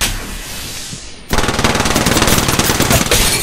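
Automatic gunfire from the video game Apex Legends breaks out suddenly as a loud, continuous rapid burst of shots, following a quieter stretch of game ambience.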